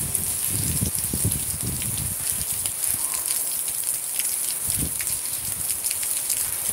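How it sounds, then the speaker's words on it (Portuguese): Rain falls in Cape Verde with a steady, dense hiss of drops pattering on surfaces, fairly close and even throughout, with a few low thumps underneath and no talk. "Oi, chuva na zona ali."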